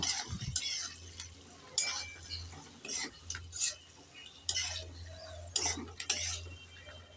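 Spoon scraping and clinking against a pan while stirring mustard-poppy seed paste and green chili paste into flat beans, in bursts of close metallic taps and scrapes with a low hum behind.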